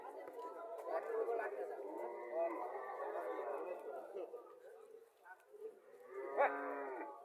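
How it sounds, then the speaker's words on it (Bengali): A Haryana breed calf at a livestock market gives a few moos, heard close and mixed with the chatter of people talking nearby. "বাছুরটা হরিয়ানা জাতের বাসুর"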